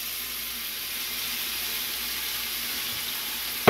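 Steady loud sizzle of tomatoes and turnip greens frying in a hot pan for an Indian turnip dish, a continuous hiss with a sharp clatter at the very end.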